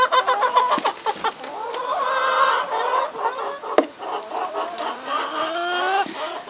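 Chickens cluck in a lively, overlapping chorus at close range, a steady stream of short calls from several birds around feeding time on a farm with no talking.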